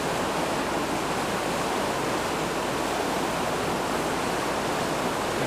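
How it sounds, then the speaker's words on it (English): The flooded Vaimiki River in the Kruger area rushes after a night storm, a loud, steady roar of churning water that fills the whole stretch with no voices. "This is Vaimiki River now. It's playing strongest since we've been here."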